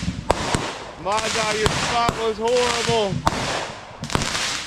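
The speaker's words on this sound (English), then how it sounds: "You can hear the sound. We have all our fireworks here." Fireworks crackle and pop in sharp bursts with whistling rising tones, several loud bangs over a few seconds, heard from under a tarp, while a person talks excitedly underneath.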